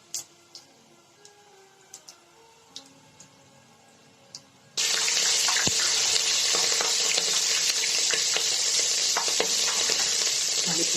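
Green chillies drop into a hot oiled pan with cardamom, cinnamon and star anise and burst into a loud, steady sizzle partway through, after a few faint clinks and taps in a quiet kitchen.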